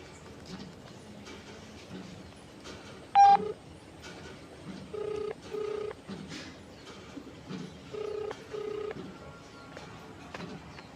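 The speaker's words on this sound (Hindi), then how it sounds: "देखिए, अब फ़ोन जा रहा है" A telephone is dialed on speakerphone, with a short series of clear, evenly spaced touch-tone beeps over a faint background murmur.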